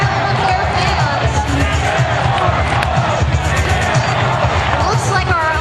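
Fans at a 2011 DC Rollergirls roller derby championship bout between the DC Demon Cats and Scare Force One cheer loudly and continuously, a dense roar of whoops and crowd noise filling the arena without a break.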